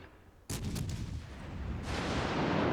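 A heavy naval gun salvo fires in World of Warships Legends, a sharp loud boom at the start followed by a rolling, sustained rumble that swells again toward the end, with no talking.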